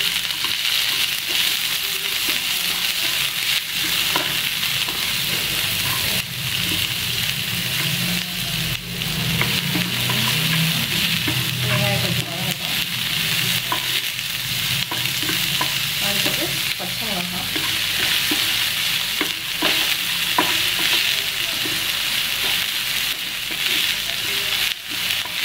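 Onions frying in a hot pan with urad dal, stirred constantly, a loud steady sizzle throughout with scraping and shuffling from the stirring.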